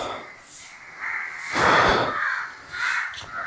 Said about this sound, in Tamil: இந்த காக்கா அண்ட் மற்ற பறவைங்களோட சவுண்டு தான்